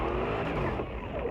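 Suzuki 4x4 trucks run an extreme off-road challenge course before a large crowd, a continuous loud engine roar with a rising rev that stays steady for a moment, with no talking.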